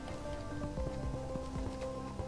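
Soft, steady rainfall patters in the video game Terraria, a faint continuous hiss mixed with quiet tonal game music.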